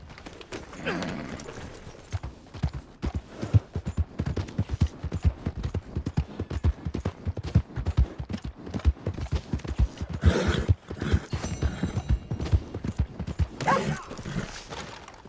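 Rapid rhythmic hoofbeats of a galloping horse in Red Dead Redemption 2 run steadily throughout, with a few brief voices and bursts of other game sounds layered over them.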